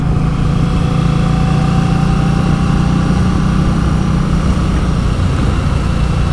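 An Indian Scout Bobber motorcycle engine with an aftermarket exhaust idles loudly and steadily, giving a continuous deep, rough rumble throughout.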